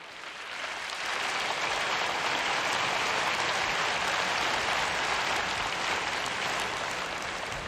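Sustained applause from a church congregation builds within the first second and holds steady and full for the rest of the span, a dense wash of clapping with no voices standing out.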